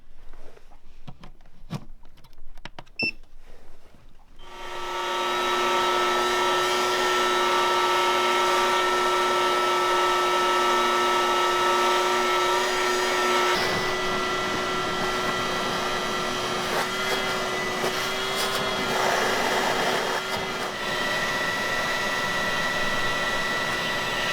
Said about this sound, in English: We need to get the vacuum and clean that all out.